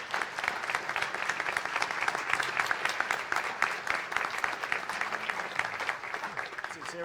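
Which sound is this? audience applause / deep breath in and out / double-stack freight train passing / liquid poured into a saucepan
audience applause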